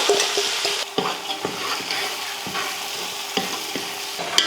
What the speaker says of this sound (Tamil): எண்ணெய் காஞ்சதுமே கடுகு உளுந்து சேர்த்துடலாம் கடுகு பொரிஞ்சதுமே கொஞ்சம் கருவேப்பிலை சேர்த்துட்டு வெங்காயம்